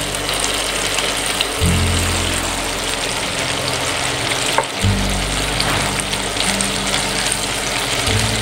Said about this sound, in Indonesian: Jadi kita akan goreng semua sekali ya.